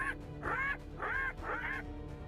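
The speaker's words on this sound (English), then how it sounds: "The goblins sound more like parrots." Goblin cries in the video game Goblin Slayer, a series of four squawking, parrot-like calls in steady rhythm, fairly faint over a low background hum.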